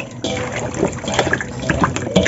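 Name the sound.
stirring brine to dissolve powder in water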